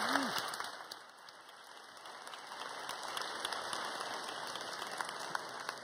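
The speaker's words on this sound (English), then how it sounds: "let's celebrate the end of our morning session with a round of applause for these" Sustained applause from a conference audience at the close of a morning plenary session, a dense steady wash of clapping filling the room throughout, dipping briefly early on before swelling again.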